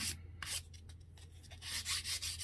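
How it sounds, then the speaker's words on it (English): Sandpaper rubbed by hand over a wooden table saw sled part to knock off a small burr, giving soft, quiet scratchy strokes in bursts with a low hum underneath. "You wanna take your sandpaper and sand that off if there is any on there."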